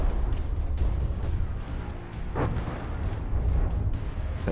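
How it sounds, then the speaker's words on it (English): Continuous flak fire from the Maiden warship in From the Depths thuds and pops in a steady rumbling barrage, mid-distance, with no talk. "It's flak fire from the Maiden."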